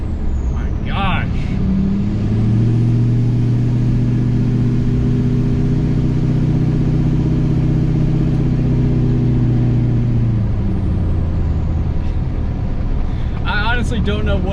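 Inside the cab of a Duramax diesel truck with a straight-pipe exhaust and downpipe, a deep droning rumble builds under acceleration, holds strong, then fades, with brief voices at the start and end.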